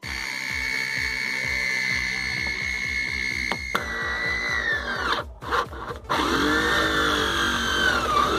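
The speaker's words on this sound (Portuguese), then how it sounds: "Vou estar fazendo aqui o furo e tá mostrando para vocês." A power drill fitted with a hole saw cuts a hole through a plastic water tank, running steadily and loud with a rapid grinding chatter, briefly easing and dipping midway before biting back in at full speed.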